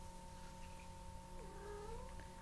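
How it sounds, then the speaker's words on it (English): Domestic cat meows once, a faint, drawn-out rising and falling call behind a steady electrical hum and background noise, no talking. "Oh, my cat's meowing. She wants out."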